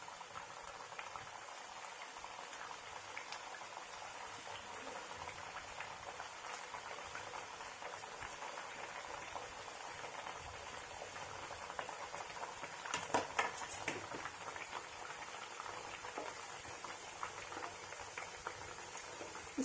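Aloo papdi, crisp potato flatbreads, fry in hot oil over a low flame, giving a steady, even bubbling sizzle throughout with a slightly busier burst near the end and no voices.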